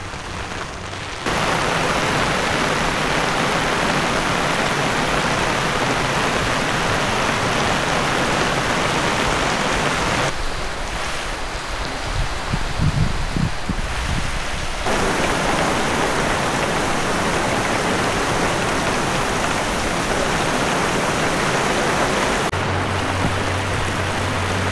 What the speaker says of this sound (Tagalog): Yan na naman ang ulan.